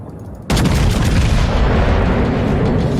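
A heavy naval turret salvo in World of Warships erupts suddenly as a loud, close boom that rolls into a sustained rumbling roar lasting several seconds.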